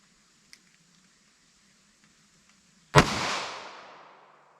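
A single sharp gunshot from a Taurus G2C 9mm pistol firing Hornady Critical Defense Lite ammunition in a ballistic test, a loud crack with a short decaying tail after quiet background hum and a few faint clicks.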